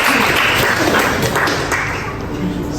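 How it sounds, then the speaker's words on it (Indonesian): Church prayer-meeting congregation applauding the worship team, a short, loud burst of dense clapping filling the space, fading slightly toward the end. "Boleh kasih tepuk tangan buat tim Correction Worship kita."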